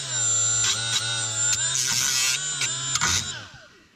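A power tool strips rust from the underbody of a 2008 Subaru Impreza STI, giving a loud, steady motor whine broken by repeated short grinding bursts before it spins down at the end.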